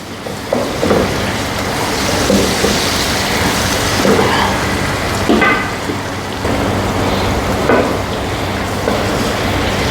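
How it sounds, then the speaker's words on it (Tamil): Onions and green chilies fry in hot oil left from frying fish, cooked down for a fish biryani. A steady, dense crackling sizzle runs throughout, with a few louder spitting bursts and utensil knocks. "எல்லா வெங்காயம் பச்சை மிளகா போட்டு நல்லா இப்போ நம்ம எண்ணெயில் நல்லா வதக்கி விட்றோம்"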